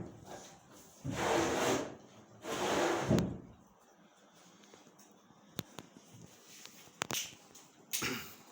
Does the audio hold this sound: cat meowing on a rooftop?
no